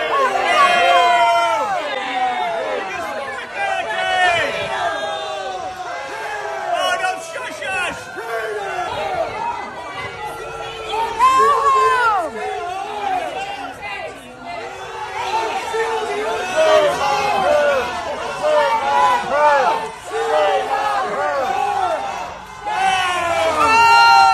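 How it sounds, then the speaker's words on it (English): A large crowd at a Republican constituent event swells with shouting, booing and cheering, waves of overlapping voices rising and falling throughout, with a speaker's amplified voice intermittently underneath the noise. "I'm gonna play you here the clip of her getting booed unedited twice."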